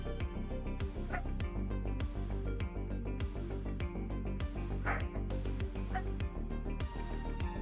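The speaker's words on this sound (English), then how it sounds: "Can you hear the dog barking?" A dog barks repeatedly at a steady rhythm somewhere indoors, the yips coming through clearly against a constant background hum, with no voices heard.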